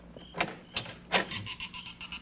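A creaky door swings open in an old radio western drama, a few scraping creaks and rattles rising and falling over about two seconds, fairly close and alone with no talk over it.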